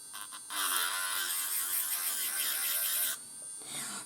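Electric drill running, a steady high-pitched buzzing whine that starts abruptly, holds for about three seconds, then stops, close by.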